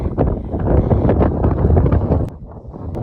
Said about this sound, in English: the wind is blowing over the summit